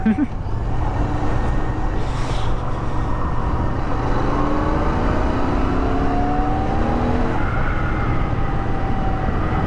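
A Royal Enfield GT 650 motorcycle fitted with a Red Rooster exhaust runs continuously, its engine note held loud and steady with sweeping rises in pitch as the revs climb.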